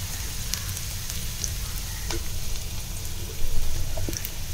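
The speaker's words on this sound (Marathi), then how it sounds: "छान पहिलं ते परतून घ्यायचं" Ground masala paste for a Malvani prawn curry sautés in a pan with onion, a soft steady sizzle with occasional light stirring clicks, close and continuous, growing slightly louder near the end, with no talking.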